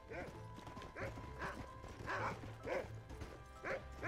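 Barking dog in the Red Dead Redemption video game, a few short yaps spaced across the moment under game noise, with hoof clip-clop mixed in and someone talking over it.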